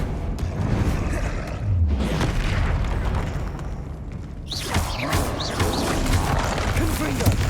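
The Confringo fire spell in Hogwarts Legacy sets off deep, booming explosions with crashing bursts, layered over continuous game combat noise.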